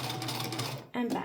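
A sewing machine back stitches elastic onto a cloth diaper in a short, rapid mechanical run, breaks off briefly, then starts again, with a voice speaking over it.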